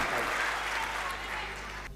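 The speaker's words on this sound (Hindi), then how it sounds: "जोरदार तालियों से राणा मुनि प्रताप जी" An audience at a Hindi poetry recital breaks into continuous applause, a broad even roar of clapping that holds steady and then cuts off sharply at the end.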